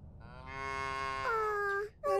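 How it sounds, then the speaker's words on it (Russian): Cows in a herd mooing in the video game Little Misfortune, one long, close, loud moo rising in pitch, followed by the start of another. "Эй, неудача, смотри. На поле целое стадо коров."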